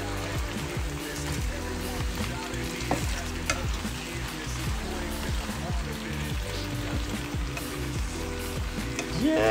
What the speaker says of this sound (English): it's almost like frying your tomatoes down.